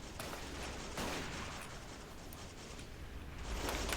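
Machine gun fire echoes across WW1 trench warfare in Battle of Empires 1914-1918, with faint, continuous rattling bursts and distant shots under a low battlefield rumble.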